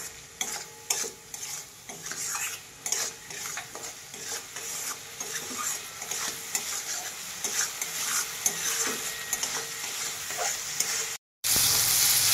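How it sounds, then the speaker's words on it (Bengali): Chillies with turmeric and salt fry in a pan with a close, steady sizzle. A spoon stirs and scrapes against the pan repeatedly, and the sound cuts off briefly near the end. "তো এবার আমি ভাজবো।"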